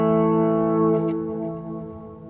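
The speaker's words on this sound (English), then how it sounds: "a really perfectly tuned delay sound or tape echo" A sustained, layered guitar chord rings through a Keeley Halo dual echo pedal set for a tape-style delay, holding steady and loud before slowly fading, with faint echoed repeats hanging over it.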